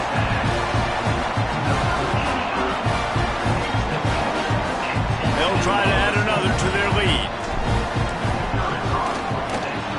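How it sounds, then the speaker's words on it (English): A college football stadium crowd at SMU vs NC State keeps up a loud, steady roar and buzz after a Mustangs touchdown, while an announcer talks over it continuously. "this crowd is buzzing after that last score"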